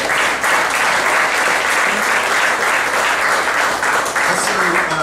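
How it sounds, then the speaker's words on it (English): A room of attendees at a Tulsa startup meetup gives a full round of hand clapping. The dense, even applause carries on for several seconds, with faint voices mixed into the crowd noise. "if we could give them a hand clap"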